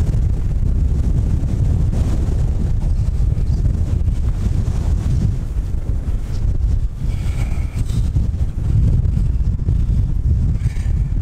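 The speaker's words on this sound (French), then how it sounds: "sinon ça va être ingérable avec ce vent" Strong wind gusting on a beach, loud continuous rumbling buffeting against the microphone that barely lets up, with faint surf beneath.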